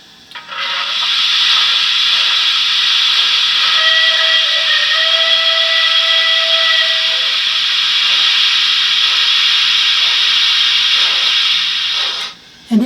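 An HO-scale steam locomotive model's sound decoder gives off a long, loud, steady steam hiss with a thin whistle tone running through the middle. The hiss stops abruptly at the end.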